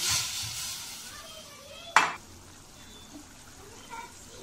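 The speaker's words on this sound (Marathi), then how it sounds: "थोडं आपण असं छान परतून घेऊया मसालासुद्धा" Malvani masala with turmeric sautéing in a pan, giving a quiet sizzle with a few soft stirring scrapes and one sharp clatter near the middle.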